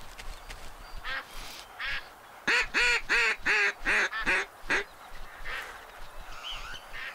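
Ducks quack and honk in the hunting video game Duck Dynasty, a burst of loud, rapid, evenly spaced calls in the middle, with scattered fainter calls before and after.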